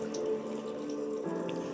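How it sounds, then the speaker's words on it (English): Small decorative waterfall fountain running indoors, a steady soft trickle and splash of water continuing evenly throughout at low level. "I have my little waterfall thing in the background"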